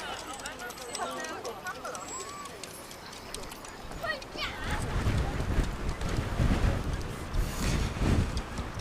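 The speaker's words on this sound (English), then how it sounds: "There's a little bit of wind. Hopefully it's not too noisy on your end." Wind buffeting a microphone on a winter street in Reykjavik during a lights festival, a low rumbling roar that swells and grows heavier midway, with someone talking over it.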